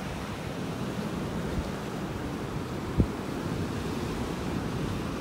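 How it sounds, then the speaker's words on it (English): Small ocean waves wash softly onto the beach by Naples Pier, a faint, steady surf hiss mixed with wind, broken by one brief thump. "The waves aren't that big."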